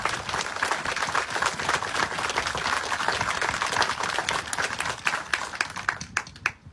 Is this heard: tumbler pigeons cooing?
no